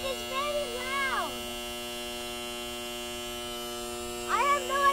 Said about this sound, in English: if you notice how buzzy this thing is, it is very loud.